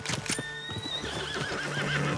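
Horse in Red Dead Redemption 2: a close, loud whinny that rises and wavers over a couple of seconds, with snorting and a few hoof clops mixed in.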